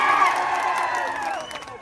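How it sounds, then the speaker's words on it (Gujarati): Crowd at a Koli community political gathering in Dahod, Gujarat, cheering and clapping to welcome a local leader and Gujarati film actor, a dense sustained roar of voices and applause that tapers slightly toward the end. "એમને બી તાળીઓથી વધાવીએ છીએ"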